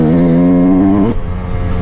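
A Yamaha YZ125X dirt bike engine runs loud and close, holding a steady buzzing tone before the revs drop off sharply to a rougher idle.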